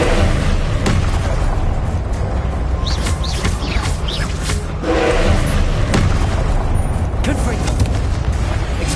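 Confringo blasting spells explode in Hogwarts Legacy amid chaotic spell combat, dense repeated booms and crackling impacts over a constant loud rumble, with shouted voices mixed in.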